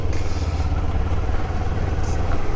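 Motorcycle engines running steadily as riders set off together, a loud, continuous low rumble with no clear revving peaks, close by and without talk.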